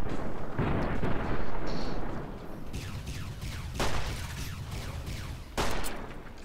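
Gunfire in the video game Fallout New Vegas: several sharp, loud shots and blasts at irregular intervals over a rumbling battle background.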